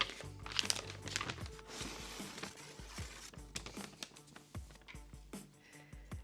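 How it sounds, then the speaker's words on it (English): A small paper bag from a Paris workshop, holding carved Montmartre slate pieces, crinkles and rustles as it is handled up close, a dense run of crisp crackles and soft crunches with no talk. "They packaged it very nicely for me in this little paper bag."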